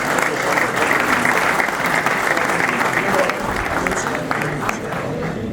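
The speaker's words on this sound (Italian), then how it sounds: "E cominciamo con un applauso a Gianni Paccagnella, dirigente della Villa" Steady applause fills an awards ceremony honouring sports club delegations, a dense, continuous clapping from a sizeable audience that holds level throughout with faint crowd murmur beneath.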